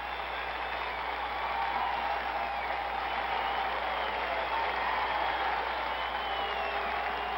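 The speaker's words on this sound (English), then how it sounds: "It's a standing ovation at the new Madison Square Garden." Sustained crowd applause and roar from a sellout crowd giving a standing ovation at Madison Square Garden during the 1970 NBA Finals game 7, steady and unbroken, heard through old broadcast audio.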